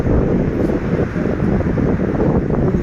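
Strong wind blasts across the microphone in a continuous low roar, loud and close, with no voices.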